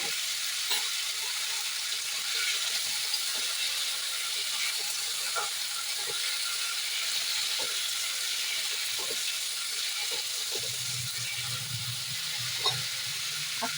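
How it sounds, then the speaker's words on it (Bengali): Potatoes fry in a pan for a Bengali banana-flower curry with chickpeas, giving a steady close sizzle and hiss with occasional stirring clicks, no talking. "আলুগুলো ভেজে নেব।"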